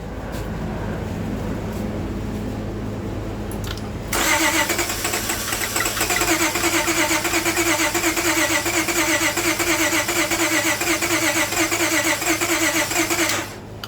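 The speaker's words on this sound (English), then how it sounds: "I'm gonna see if it'll start up on its own with the fuel and treatment cleaner" A car that had been towed in with a crank-no-start fault, now fed fuel and a cleaner treatment, quiet at first before the engine catches at about four seconds and runs steadily and loudly at a fast idle until the end.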